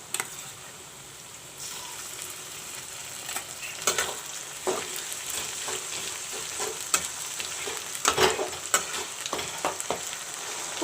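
Ginger garlic paste sizzles in hot oil with golden-brown onions for mutton vindaloo, a steady frying hiss broken by scattered clicks and spatters as the mixture is stirred, fairly close.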